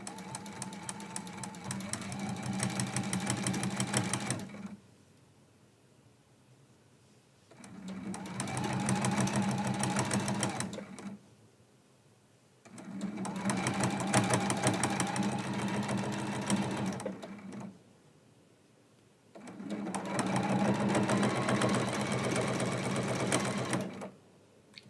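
A sewing machine stitches down quilt binding with a back stitch, running in four long, steady whirring stretches with brief quiet breaks between them, close up.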